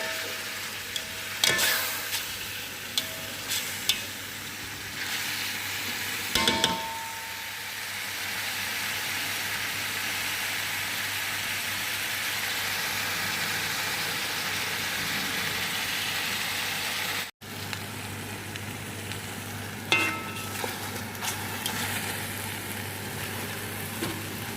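Rice frying with onions in oil for chicken machboos, a continuous close sizzle under a low steady hum, broken by a few clattering stirs and one brief cut.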